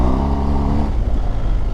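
An adventure motorcycle in Enduro Pro riding mode with reduced traction control revs hard and steadily, its engine note rising and then turning rougher and more broken as the bike loses traction, loud and close.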